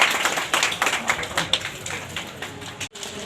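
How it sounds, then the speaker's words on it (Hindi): Steady applause greets a guest at a local welcoming ceremony, a dense patter of many hands clapping close by, fairly loud and continuous, with a brief drop near the end. "नारियल दो और तालियों के साथ में स्वागत किया जाए"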